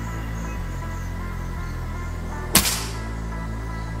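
A PCP air rifle fires a single Hercules pellet at about 2000 PSI, one sharp loud crack followed by a brief tail, over steady background hum.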